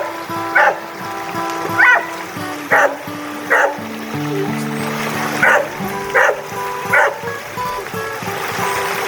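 Dogs bark in a series of sharp, evenly spaced woofs while splashing through a river, with the steady trickle of flowing water running underneath and faint voices at times.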